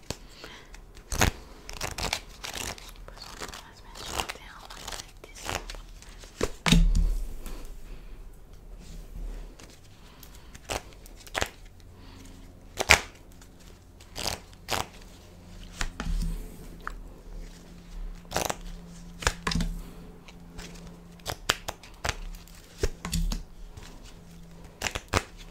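Tarot cards shuffled by hand for a five-card draw, soft close flicks and slaps in an irregular rhythm over a long stretch, quiet room with no talking.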